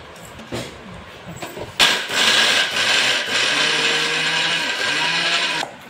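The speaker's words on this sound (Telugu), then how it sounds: "ఇలా పొడి పొడిగా అయిన దాన్ని మిక్సీ జార్లో వేసుకొని మెత్తగా పొడి కొట్టుకోవాలి" Mixer grinder whirring as dried ingredients are ground into fine powder in a mixie jar, a loud steady motor drone starting after a couple of clunks and holding for several seconds before cutting off.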